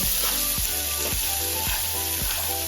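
Spice mix of garlic, ginger and salt frying in a pan, a steady loud sizzle with a few soft scrapes of stirring throughout.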